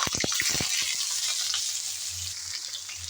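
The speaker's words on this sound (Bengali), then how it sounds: "এখন দিয়ে দেব পটল।" Pointed gourd is tipped into hot oil with black cumin in a pan, opening with a few quick knocks before a loud, steady hiss of frying that continues to the end, close and without speech.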